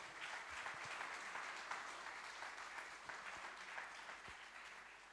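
An audience at an event on rewarding water savings applauds Frédéric for his results and work in the area; steady, moderate clapping from a room full of people continues throughout, a little distant and tapering slightly at the end.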